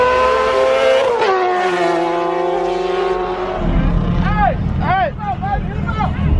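Dodge Demon street car driving past on an open road in daylight, loud engine note sweeping by with a pitch drop, followed by quick revving blips, with voices nearby.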